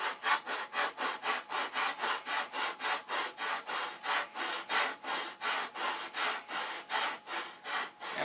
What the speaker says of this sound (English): showing this sanding on camera